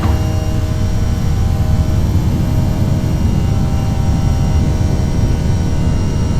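A320 jet engines roar steadily at takeoff thrust during the initial climb in the Prepar3D flight simulator, a loud, broad, unbroken rush without pauses.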